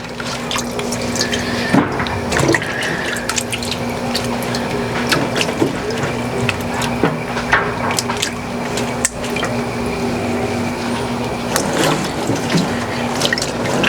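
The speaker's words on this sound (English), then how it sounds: "I'm sitting over here just splashing up water." Water splashes and drips continuously while carrots are pulled up in a garden by hands in wet gloves, a busy wet squishing and spattering close by at a fairly loud level, with no voices.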